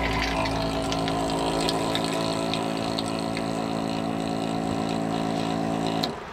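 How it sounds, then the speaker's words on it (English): A van's water pump runs dry with a loud, steady mechanical hum and whine of layered tones, then cuts off abruptly near the end, leaving a quieter background. "we're gonna run the pump until it's dry again."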